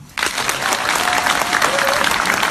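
Audience applause at a political lecture in Daejeon, a sudden burst of clapping from a large indoor crowd that stays loud and steady, with faint voices mixed in.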